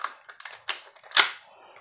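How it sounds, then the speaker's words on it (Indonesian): A Tokyo Marui USP spring-powered airsoft pistol is racked and cocked, a quick run of small plastic clicks and slides ending in one sharp snap as the slide locks back. "Kemudian kita kokang."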